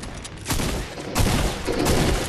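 Fortnite gunfire rattles in rapid, loud bursts, three clustered volleys separated by brief gaps, close and punchy with little talk over them.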